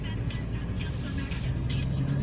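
A car rushes past close by on a road, a steady loud engine and tyre roar that swells slightly toward the end.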